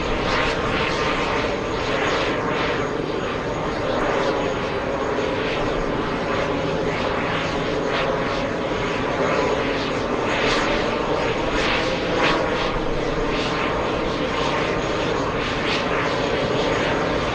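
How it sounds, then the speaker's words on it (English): An airliner's auxiliary power unit runs at JFK airport while the jet sits refueling, a steady loud broadband whine and roar that holds constant throughout with no speech. "APU is on. That's where all the sound is coming from."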